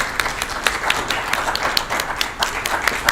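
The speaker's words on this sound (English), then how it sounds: "Give him a round of applause." At a university piano masterclass, a small audience applauds a piano student with steady, moderately loud clapping from a modest group of hands, heard alone without talk.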